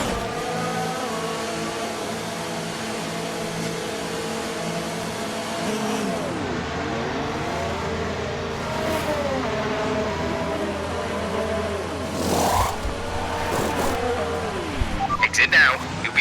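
A Formula 1 car in the F1 2019 video game pulls out of the pits, its engine droning and rising and falling through the gears. Talk and radio chatter run over it, with short bursts of noise toward the end.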